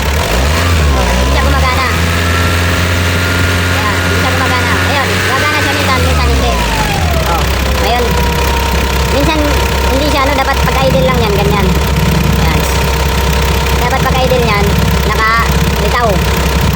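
A 2009 Mitsubishi Montero engine idles during a check for a faulty EGR valve: a loud, steady close-up drone that eases down in pitch after a brief higher-revving stretch, with voices murmuring underneath.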